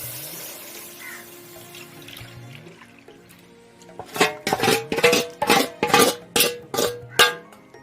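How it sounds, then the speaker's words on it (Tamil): Wheat flour and water batter poured into a pan heated on high flame for Tamil wheat halwa: a soft liquid trickle, then a series of about eight sharp, loud splashing sizzle bursts in quick rhythm. "இப்போ கலந்து வச்சுக்கிற இந்த கோதுமை தண்ணியை அப்படியே ஊற்றிடுவோம்."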